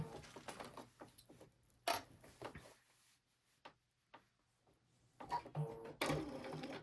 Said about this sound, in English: I'm going to sew, make sure I've got to turn the right way, from this point all the way around to that point with some back stitching